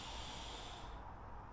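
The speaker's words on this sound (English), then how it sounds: "Breathing in" A person seated in a wheelchair takes a slow, steady breath in during a relaxing yoga session, a soft close airy hiss that lasts about a second before fading.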